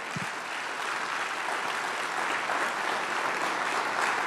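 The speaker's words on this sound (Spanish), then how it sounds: "Dale el aplauso al Señor." A church congregation applauds the Lord during a Spanish-language sermon, with steady, dense clapping that fills the room and holds at an even level throughout.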